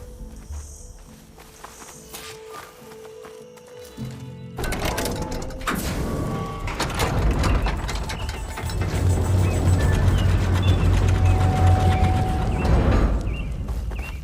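A door opening in the video game Horizon Forbidden West: after a quieter mechanical stretch, a loud, sustained grinding rumble with clanking mechanism sounds starts abruptly and keeps building, layered with a steady tonal hum.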